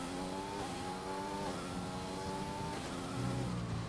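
Race car in a racing video game, rear wing flap open, dropping rapidly through its gears down to second for a corner; a loud, close engine note steps downward with each shift, then settles at low revs, with no talking.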